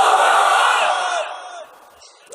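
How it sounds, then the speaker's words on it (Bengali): A large crowd at an Islamic sermon gathering shouts a takbir of Allahu Akbar in unison, loud and close, holding the cry for over a second before it fades into a quieter murmur. "তাকবীর পড়েন, লিল্লাহি তাকবীর।"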